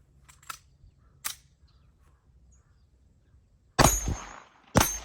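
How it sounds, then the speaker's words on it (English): Sharp outdoor reports from a P365 XL pistol fired at a target, a few faint distant cracks first, then two loud close shots near the end against quiet background. "Now we're going to be shooting the P365 XL."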